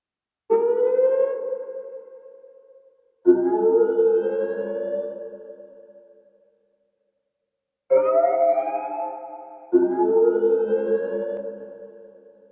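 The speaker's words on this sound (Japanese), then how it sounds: "エディット上に配置したパトカーの音のレベルを確認しながらエフェクターを調整していきたいと思います" Police car siren recording laid out for effects processing: four loud, separate wailing blasts, each starting abruptly and fading over a couple of seconds, with brief silent gaps between them and no voices.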